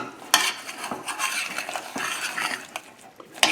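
A spoon mashes garlic potatoes with heavy cream in a pot, giving soft squishing and repeated clinks and scrapes against the pot in an uneven rhythm, close and without speech.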